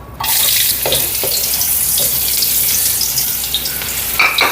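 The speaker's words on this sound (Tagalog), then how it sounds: "So, ngayon ay magisa na tayo. So, meron tayong luya." Ginger sautéing in a hot pan, a loud continuous hiss and crackle up close, broken by a few light scrapes, with no one talking.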